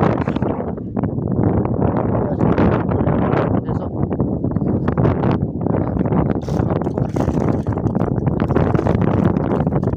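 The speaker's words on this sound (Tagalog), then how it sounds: "Ayan na guys yung hangin." Strong wind at a fishing spot buffets the microphone in loud, constant gusts, roaring and rumbling with no break for the whole stretch.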